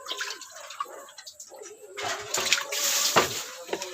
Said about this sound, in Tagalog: atong hugasan ang kalaha